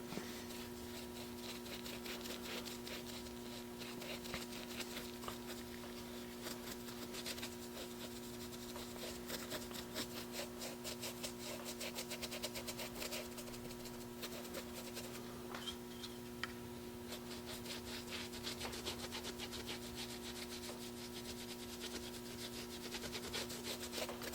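A stiff brush rubs Angelus dye into the suede of Jordan sneakers in quick, repeated scrubbing strokes. The sound is soft and close, over a steady low hum, with no talking.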